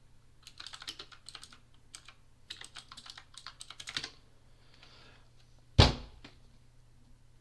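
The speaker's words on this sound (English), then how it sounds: "Who's typing?" Computer keyboard keys clatter in quick, uneven bursts for about four seconds, close and fairly loud, during a podcast recording. A single sharp knock or thud follows after a short pause, with no talking.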